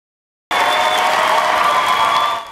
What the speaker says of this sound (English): A standing ovation, cheers and applause, welcomed Mayor Tom Menino into Faneuil Hall